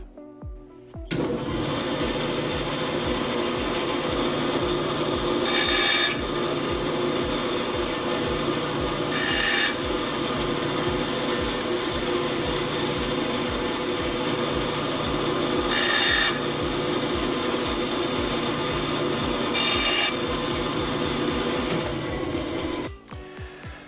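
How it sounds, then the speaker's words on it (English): Bandsaw runs continuously while cutting small wooden bracing pieces, a steady loud hum with four brief sharper rasps as each piece is sliced off. "So simply go to the bandsaw and cut them off."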